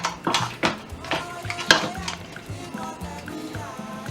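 A lid goes onto a pot of okra and assorted vegetable soup, heard as several metallic clanks and a rattle, with a voice talking quietly underneath.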